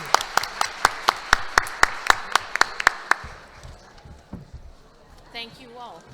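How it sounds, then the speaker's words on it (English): Audience applause for participants at a law conference plenary session, heard as a series of sharp, evenly spaced claps for about three seconds, then speech. "I would like to give a very, very warm round of applause to our participants"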